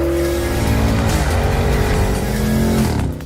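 A 2021 Porsche Cayenne GTS with its twin-turbo V8 drives past close and loud, a steady engine roar holding its pitch, then dipping briefly and rising again near the end before quickly fading.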